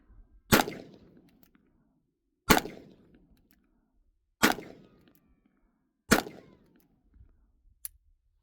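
Pistol firing five shots at a range target about 30 feet away, four sharp loud reports spaced roughly two seconds apart, then a fainter fifth crack.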